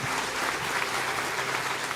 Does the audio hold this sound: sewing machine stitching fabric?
no